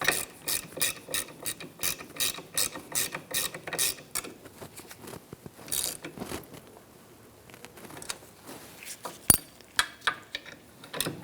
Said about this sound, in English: so let's tighten up this bolt.